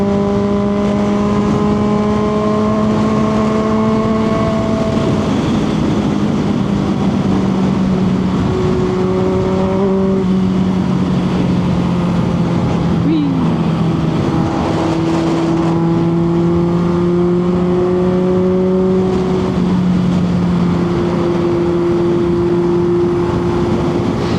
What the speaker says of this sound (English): bike just doesn't sound like it should look like it does. It's like a high-strung inline 4.